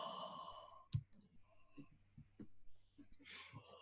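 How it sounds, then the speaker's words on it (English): A person gives a big, breathy yawn that swells and fades like a long sigh, close and fairly quiet, with soft breathing and a few small clicks and voice sounds around it. "big yawns"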